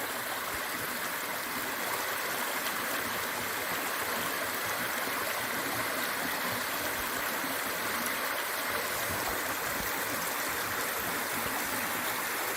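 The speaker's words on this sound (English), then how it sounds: "Water cascading over rocks." Continuous rushing water tumbling over rocks at Darwin Falls in Death Valley, a desert waterfall, a dense, even roar with gurgling detail, close by and unbroken throughout.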